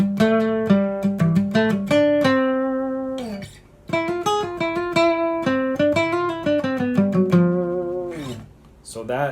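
Guitar solo, played as a sequence of clear sustained notes with pitch bends, a short gap partway, then more ringing notes trailing off, close and fairly loud with no talking.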